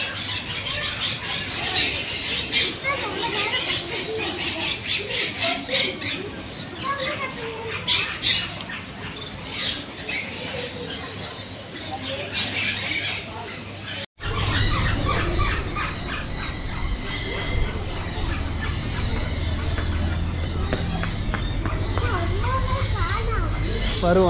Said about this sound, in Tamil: இங்கே பார்த்தீங்கன்னா மாங்க் பேரட் அப்படின்னு சொல்லி ஒரு வகை இருக்குது